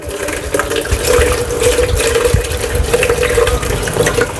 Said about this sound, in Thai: ต้องล้างทีละกลีบนะครับ แบบนี้นะครับ